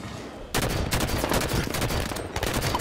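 Continuous automatic gunfire in Halo 5 Warzone multiplayer, a dense rapid rattle of shots that kicks in after a brief quieter moment and stays loud and close to the end.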